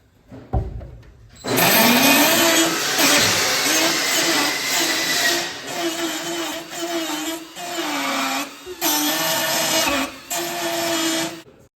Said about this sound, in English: resorted to pulling out his formal dental tool grinding kit